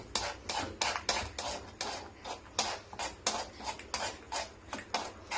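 A utensil stirs fried vegetables in a pan for pasta, scraping and clinking in a steady rhythm of about two strokes per second, close and clear with no talking.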